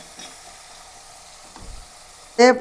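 Onion, green chilli and ginger soften in a pan while cooking a special fish curry, giving a faint low sizzle that ends in a brief louder clatter of stirring.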